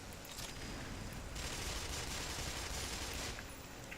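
Sustained automatic gunfire in the shooter game Black Mesa, a dense, hissing fusillade that swells louder in the middle and eases off at the end, with no voices over it.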